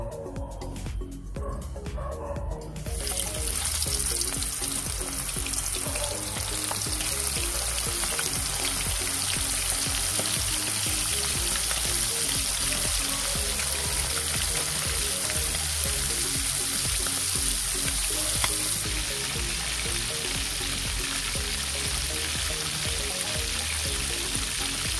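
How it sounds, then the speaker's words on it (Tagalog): Chicken pieces dropped into hot oil for Filipino chicken de negra burst into a loud, steady sizzle and crackle after a few seconds of quieter sound, frying on continuously and close. "Guys, mainit ng ating oil. Ilalagay na natin ang ating chicken."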